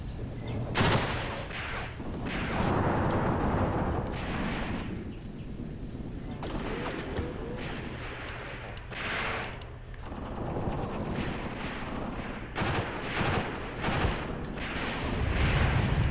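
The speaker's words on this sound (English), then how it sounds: "Yeah, that's got to be an AA gun off in the distance." A distant anti-aircraft gun firing in a war video game, heard as repeated muffled booms and bursts of gunfire amid a rumbling battlefield, with people talking over it.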